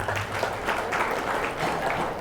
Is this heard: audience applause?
yes